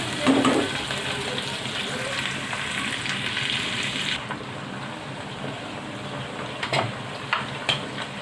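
Mutton fries in a pot with dry coriander and crushed garlic, producing a steady, fairly loud sizzle that eases partway through, with a few stirring scrapes and knocks and no voices.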